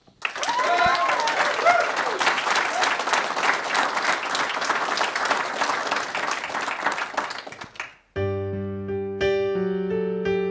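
An audience at a live céilí music broadcast from a pipers club in Armagh applauds warmly to welcome singers, a dense sustained clapping that fades after about eight seconds into sustained musical tones.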